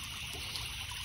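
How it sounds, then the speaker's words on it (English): Steady trickle of water dripping through tubing into a container while koi fish are drip-acclimated for a new pond, a continuous close, quiet liquid dribble with no talking. "So right now I'm drip acclimating them with this."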